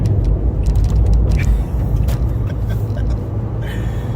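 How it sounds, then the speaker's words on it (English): Car driving on a road toward Santa Cruz, with a steady loud low engine and road rumble throughout, close and continuous, tire hiss rising and falling slightly and no talk over it. "All right, so we are driving to Santa Cruz."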